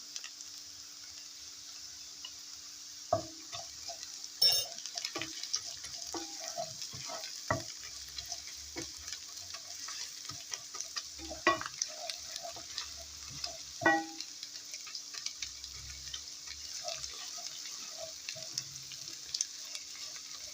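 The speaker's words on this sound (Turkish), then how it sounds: "salçamızla beraber 2 dakika kavuruyoruz" Browned onion and a spoonful of tomato paste sautéing in a pan for madımak: a low, steady sizzle broken by frequent close stirring clicks and spatula scrapes, with no voices.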